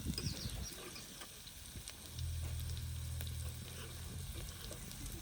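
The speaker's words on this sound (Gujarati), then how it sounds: "ડુંગળીને ઘડીક ચડવા દઈએ" Onions frying in a pan in a village kitchen, a quiet crackling sizzle with a low rumbling hum joining partway through, heard close with no talk.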